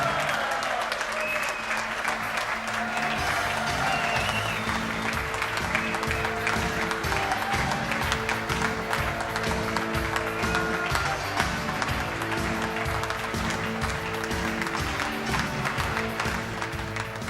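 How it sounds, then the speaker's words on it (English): Sustained, dense applause from party colleagues fills a hotel conference hall at the DUP party conference, steady clapping with no breaks, with faint crowd murmur underneath. "accepting the applause of his party colleagues there at the Le Mans House Hotel"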